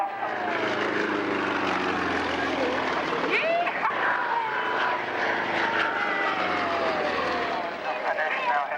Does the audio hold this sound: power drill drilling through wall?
no